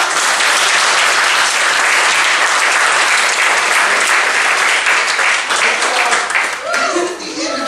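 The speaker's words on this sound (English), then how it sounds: "Can you give our teachers a round of applause?" A congregation at a church service applauds its teachers with a loud, sustained round of clapping that fills the room, thinning slightly near the end as a few voices, including children's, break through.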